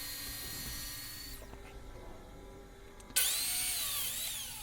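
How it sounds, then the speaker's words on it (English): A power saw cutting red oak cabinet feet to length against a stop block in a woodworking shop: a steady whining motor that drops away, then a sharp loud cut with ringing tones as the blade passes through. "We'll go ahead and cut those feet to their final length."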